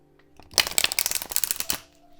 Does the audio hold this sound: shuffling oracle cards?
yes